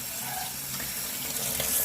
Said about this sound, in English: So I'm just gonna rinse it off and pull off the skin